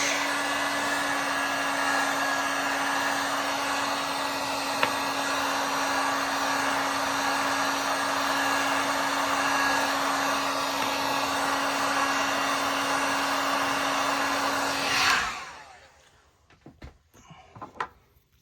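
A heat gun blows steadily and loud at close range while heating a part, a constant whirring roar with a high fan whine that abruptly cuts off near the end, followed by a few faint clicks and handling noises.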